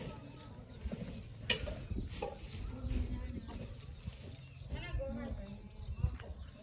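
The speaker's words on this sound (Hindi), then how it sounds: "इधर ये देखें इनकी मुर्गियाँ कबूतर वगैरह इन्होंने रखे हुए हैं।" Chickens cluck and murmur nearby amid soft bird calls, with pigeons kept alongside them in a village, a low rumble of background noise and occasional voices.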